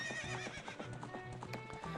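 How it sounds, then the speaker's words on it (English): In The Legend of Zelda: Ocarina of Time, a horse's hooves clip-clop in a quick steady rhythm while the horse neighs and whinnies, fairly quiet, with no talk over it. "We can just, you know, ride our horse."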